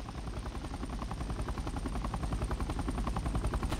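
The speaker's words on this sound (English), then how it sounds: "Oh, an helicopter." Helicopter in a Roblox game flying steadily nearby, its rotor giving a loud continuous chopping drone with fast regular pulses throughout, with no talk over it.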